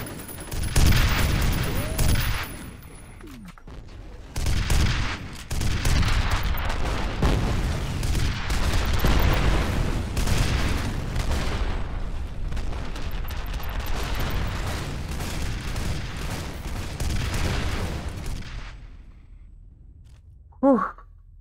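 Sustained gunfire from a weapon in the shooter game F.E.A.R., a dense run of loud, overlapping shots and booms lasting most of the stretch before cutting to near silence with one last brief burst.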